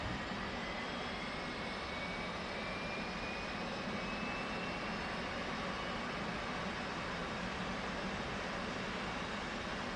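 An F/A-18C Hornet's auxiliary power unit spools up in the DCS flight simulator, a steady, loud broadband jet whine and rumble with a faint rising tone, continuous and without speech.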